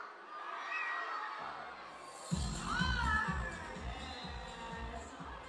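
A crowd at a Starpop campus-tour concert at CMU shrieks and cheers continuously, high excited screams filling the air, with a deeper rumble of noise joining partway through.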